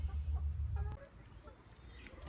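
Chickens cluck inside a coop, a low bustling cluster of soft clucks against a rumbling, muffled background that settles down after about a second.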